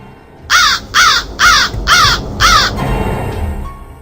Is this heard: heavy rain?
no